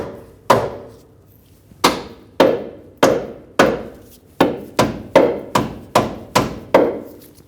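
A hammer taps a control arm bolt into place during front control arm replacement on a 2009-2019 Ford Flex, giving about a dozen sharp, close metallic strikes, spaced irregularly at first and then coming quicker, with no talking.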